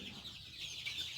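A young desi chicken, about 28 days old, clucks softly in a backyard poultry setup in Pakistan, with dense overlapping chatter from a flock carrying on steadily at moderate distance.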